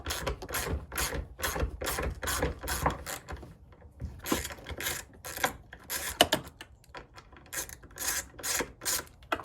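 A 1/4 inch drive ratchet backs out T27 Torx bolts on a Jeep Wrangler LJ, giving rapid, close clicking bursts in repeated strokes with short pauses between them and no talk.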